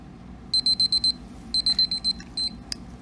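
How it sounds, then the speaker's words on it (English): A timer alarm sounds after a 15-minute wait during a lab test demo, giving loud, close bursts of rapid electronic beeps in repeated groups of four or five with short pauses between. "set a timer for 15 minutes and wait"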